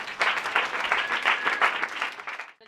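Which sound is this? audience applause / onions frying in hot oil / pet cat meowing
audience applause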